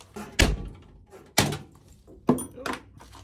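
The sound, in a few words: knocking connected sheet metal floor panels free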